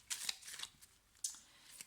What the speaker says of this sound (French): Alors, je te donne une carte maintenant.